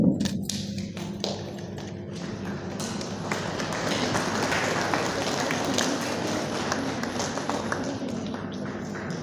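Crowd applause at a Christian church wedding: many hands clapping in a dense, steady patter that carries on for the whole stretch, with a few sharper taps at the start.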